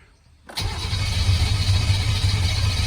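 A brief quiet is broken as an engine catches and starts, then settles into a loud, steady running rumble.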